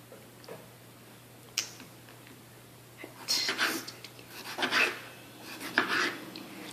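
A knife saws slowly through pineapple, cutting it into long strips, giving soft scraping and rasping strokes in a few separate bursts over a quiet background.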